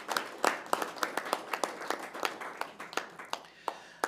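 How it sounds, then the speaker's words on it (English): A small room applauds at a press conference, with scattered individual claps forming a thin, steady round that thins out toward the end. "I believe she deserves a rousing round of applause"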